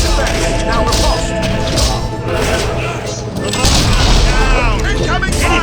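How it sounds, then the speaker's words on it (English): Incoming cannon fire in the video game Fable 3 near an Auroran ship: heavy booms, cracks and thuds crash together loudly, while a voice talks over the bombardment. "Incoming fire!"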